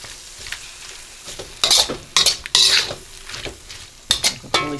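Ginger beef sauce being stirred in an air fryer basket: bursts of scraping and clinking utensil strokes over a steady low sizzle, close and fairly loud, with no talking.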